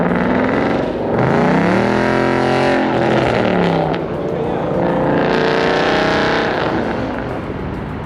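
A loud car engine at a car meet revs and roars with rising and falling pitch sweeps, close and dominant, while people talk nearby.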